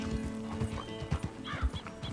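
A horse in the Red Dead Redemption 2 video game, heard as a handful of close hoof thumps and soft snorting blows over a steady game backdrop, with a whinny-like call near the end.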